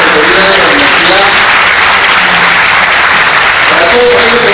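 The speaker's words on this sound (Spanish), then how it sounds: "Un fuerte aplauso para la ciudad de Quito, para las autoridades de la universidad" Sustained, loud applause from a conference audience at a university event in Quito, a dense steady wash of clapping filling the room with faint voices underneath.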